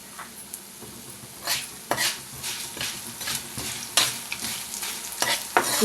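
Coriander seeds fry and get stirred in a pan for curry leaf chutney, after mustard and cumin seeds have gone in. A steady close sizzle runs throughout, broken by repeated scraping bursts of a spoon against the pan.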